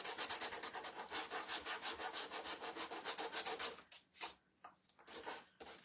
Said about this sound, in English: we are going to just give it a little sand